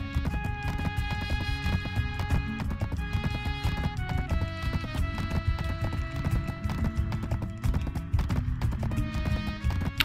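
Steady rhythmic clip-clopping of a horse's hooves in a video game, close and continuous under layered game music, with no talking.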